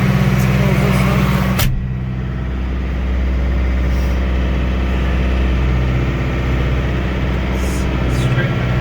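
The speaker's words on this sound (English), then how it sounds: "Let's check out the hydraulics. See how the motor raises up and down." A tractor with slow hydraulics idles in a steady low drone while its loader raises and lowers, a sharp clunk early on, the engine note holding fairly constant throughout.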